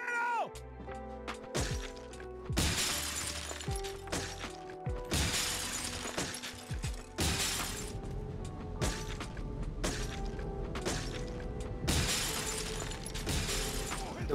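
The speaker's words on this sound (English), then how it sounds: "Curiously, they can break glass." Glass shatters in Resident Evil 4 as a thrown egg hits a window, giving several loud crashing bursts over a steady game soundtrack.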